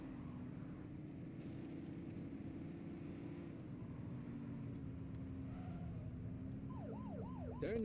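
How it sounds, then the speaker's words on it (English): A steady engine drone runs throughout, then a police car siren in the video game The Precinct starts wailing in quick rising and falling sweeps near the end, loud and close. "Turn that siren off."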